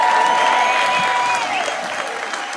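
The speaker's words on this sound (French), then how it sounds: "Applaudissez pour Marie" Audience applause at a French-language evangelical church sermon, loud and sustained for the whole stretch, with a bright organ or keyboard tone ringing over the clapping and fading slightly toward the end.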